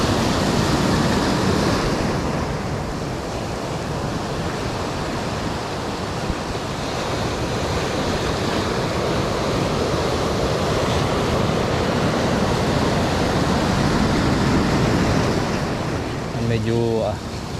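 Loud, steady surf rolls onto a rainy shore at a fishing spot, a continuous wash of breaking waves with wind noise buffeting the microphone throughout.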